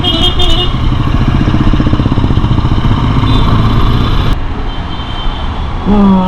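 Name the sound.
Royal Enfield Interceptor 650 motorcycle engine running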